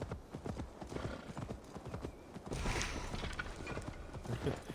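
Horse hooves clip-clopping in a steady galloping rhythm in the video game Assassin's Creed Valhalla, close and clear, with faint ambient game sound around them.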